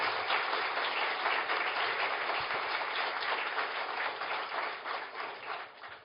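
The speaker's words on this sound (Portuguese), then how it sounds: "merece também uma homenagem, um aplauso vigoroso." An audience at an academy induction ceremony applauds vigorously, a dense, sustained wash of clapping that fades slightly toward the end, with no talk over it.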